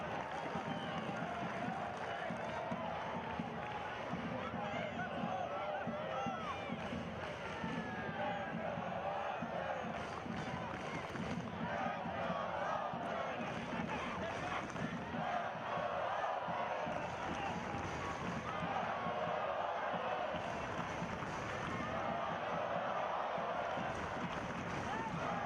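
A large crowd roars steadily at the Oakland Coliseum during an Oakland Roots soccer match against FC Tulsa in the final minutes, a dense, sustained wash of cheering voices heard from a distance, with no breaks.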